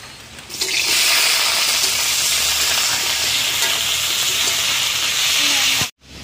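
Steamed young jackfruit pieces hit hot mustard oil in a kadai, setting off a loud, steady broadband sizzle that holds for about five seconds before cutting out abruptly.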